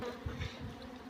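A fly or bee buzzes briefly close by outdoors, a short low drone rising and falling with no talk over it.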